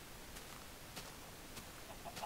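Chickens on a video game farm, faint, soft clucks at regular intervals over a hiss of background noise, with no talk.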